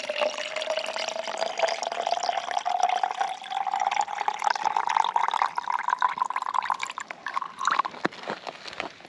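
Water runs steadily into a 10 litre MSR Dromedary bag in the Australian outback, a continuous close trickle whose pitch slowly rises as the bag fills, with small splashes and handling noises.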